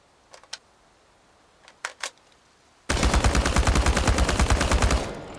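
Rapid automatic gunfire from the video game Chernobylite rattles out in a loud, sustained burst after a few faint clicks, then cuts off abruptly.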